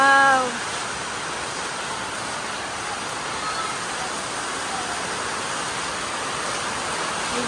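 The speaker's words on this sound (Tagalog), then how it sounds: "Lakas ng ulan." Heavy tropical rain pours steadily at a Philippine ancestral home, a dense loud hiss that stays constant throughout after a brief tonal sound at the start.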